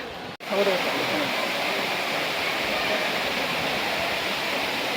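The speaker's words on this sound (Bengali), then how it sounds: "জল পড়ছে।" Water pours steadily from the hillside at Moti waterfall, a broad, continuous roaring wash that stays loud and even throughout, with a brief dropout near the start and faint voices mixed into the rush.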